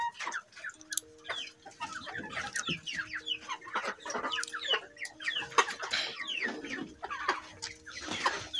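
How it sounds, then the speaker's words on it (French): Several Goliath chickens cluck and chatter in a busy, continuous flurry of short calls, fairly close, with overlapping voices and no talking. "Ce sont mes poulets, autrefois qui étaient dans des caisses."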